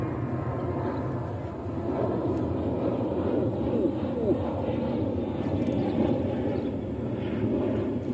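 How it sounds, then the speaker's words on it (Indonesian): A steady low drone of an airplane passing overhead at a distance, continuous throughout, with faint outdoor ambience. "itu suara pesawat teman-teman ya"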